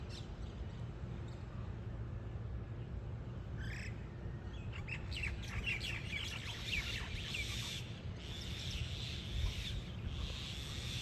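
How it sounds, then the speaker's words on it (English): Birds chirp and call at sunrise in Kihei, Maui, with scattered tweets picking up partway through and layered over a steady outdoor ambient hum, with no one speaking. "All the birds start waking up and flying around."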